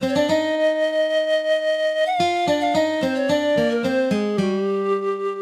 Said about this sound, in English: An example of heterophony might sound something like this.